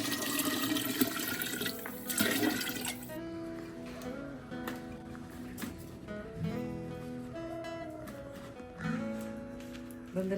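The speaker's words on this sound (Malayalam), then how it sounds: "വീണ്ടും അരത്തൊട്ടി വെള്ളം കൂടെ." Water pours steadily into a cooking pot for a goat soup cooked outdoors with family, while talk and background music carry on throughout.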